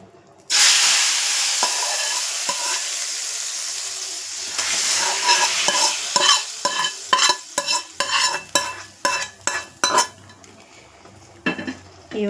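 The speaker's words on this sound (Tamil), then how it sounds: "வெங்காயமும் நல்லா பொரிஞ்சு வந்துருக்குது" Onions and vadagam fry in hot oil for a fish curry, giving a steady sizzle, then a spoon scrapes and clatters against the pan in a quick series of sharp, close strokes.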